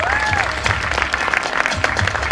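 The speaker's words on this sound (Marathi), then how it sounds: "एकदा जोरदार टाळ्या व्हायला पाहिजे यांच्यासाठी सुद्धा" Audience at a Konkan honours ceremony applauding, dense steady clapping filling the whole moment with a faint tonal sound riding on top.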